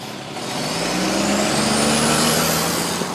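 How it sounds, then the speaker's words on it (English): Road traffic on the Boston Marathon course, with a truck roaring past loudly and steadily, its engine tone shifting as it passes, and no voices. "Today, all you can hear is the traffic."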